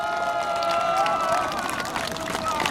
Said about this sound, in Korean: 이 영웅들에게 뜨거운 격려의 박수를 부탁드리겠습니다.